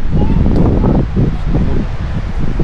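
Strong wind at Kaitarakihi Beach, New Zealand, roars steadily, buffeting the microphone with a loud, continuous low rumble and rustling.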